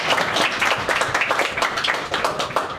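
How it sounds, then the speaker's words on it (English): An audience at a comedian's talk breaks into applause, a dense spread of individual claps sustained throughout at moderate loudness, with no talk over it. "give yourselves a round of applause."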